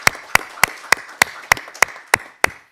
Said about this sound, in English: I think a big round of applause for those that have been involved in this is really appreciated